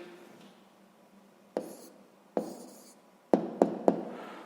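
Pen or marker strokes writing a math answer on a board or paper in a classroom-style lesson, a few separate short scratchy marks, the last three in quick succession, close and quiet with no talking.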